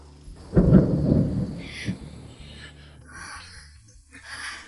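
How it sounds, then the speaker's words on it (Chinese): A loud thunderclap rumbles close and then fades, followed by softer rain and scattered faint noises during a downpour. "下雨了"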